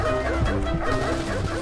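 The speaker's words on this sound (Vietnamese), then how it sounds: "Chó à!" A dog barking in a shooter video game, a couple of short close barks and yips over a dense background of game sound, loud and brief.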